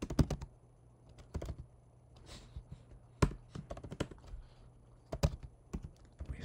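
Code being typed on a computer keyboard: bursts of crisp, close key clicks in quick irregular runs, separated by short pauses, with no talking.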